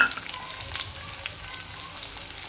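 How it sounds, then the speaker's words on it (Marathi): Cumin, curry leaves and chopped onion fry in a pan for a mixed vegetable dish, giving a steady close crackling sizzle with small spits and pops throughout, no voices. "तरी कांदा फ्राय होऊन द्यायचा आहे आपल्याला"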